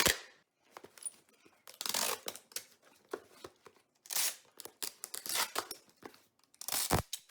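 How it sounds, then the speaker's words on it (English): Packing tape tears and crinkles in repeated bursts as a cardboard shipping box holding glass or breakable items is taped shut, close and fairly loud, with short pauses between strips. "this box is done. It's ready to tape closed."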